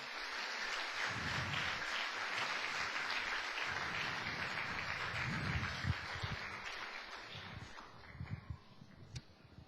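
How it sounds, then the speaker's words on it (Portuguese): Congregation applause filling a church, a dense, sustained wash of clapping that stays loud throughout before thinning slightly toward the end, with no voices over it. "Quantos podem dar uma salva de palmas ao Senhor?"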